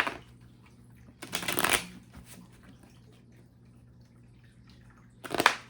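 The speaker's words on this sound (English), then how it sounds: "3 more shuffles." A deck of tarot cards is shuffled by hand in two brisk riffling bursts, close and crisp, separated by a few seconds of quiet room tone.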